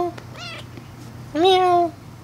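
A kitten meows in two distinct calls, a shorter one followed by a louder, drawn-out meow, close to the listener with no talk heard.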